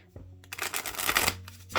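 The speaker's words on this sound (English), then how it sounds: "So I can shuffle them, riffle shuffle them" Oracle cards riffle shuffled by hand: a soft tap, then a dense ripping flutter of card edges swelling over about a second, and a final brief snap, close and alone.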